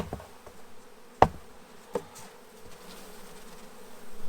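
A steady buzz from honeybees in a swarm box hums throughout, with two sharp knocks and some faint clatter.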